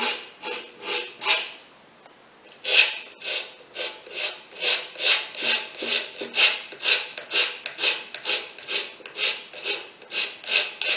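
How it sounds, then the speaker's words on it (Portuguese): A nail file rasping excess scrapbooking paper off a craft piece, with rhythmic back-and-forth strokes repeating about twice a second, close and clear, briefly pausing near the start, with no talking. "os excessos de papel que ficar, você pode tirar todo na lixa de unha"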